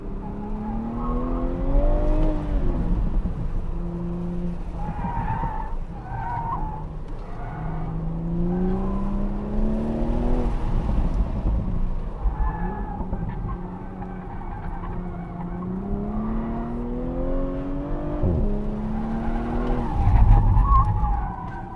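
Toyota GR Supra running an autocross course, tires squealing and skidding in repeated rising and falling wails over a revving engine, loud and close with continuous pitch sweeps as the car turns.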